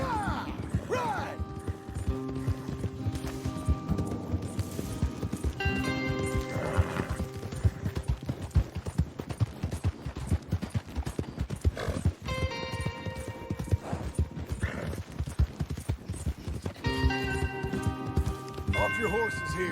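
Horses in the video game Red Dead Redemption 2 galloping with dense, rapid hoofbeats, punctuated by several loud neighs and whinnies, with music and voices mixed in throughout.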